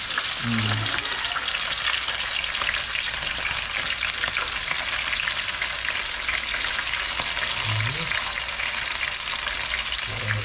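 Sanilyasi fish frying in a hot pan, a steady close sizzle and crackle of oil running throughout, with a few low knocks from the pan and faint talk in the background.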